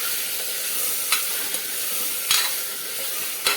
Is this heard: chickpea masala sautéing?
yes